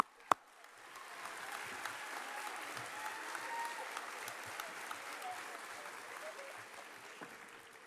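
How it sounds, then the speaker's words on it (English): An audience applauds student solo performers at a middle school promotion ceremony, a single sharp thump, then a steady round of moderately distant clapping from many hands that holds for several seconds. "About another round of applause for them"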